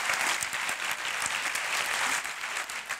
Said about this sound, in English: Okay, please thank them. Extra applause.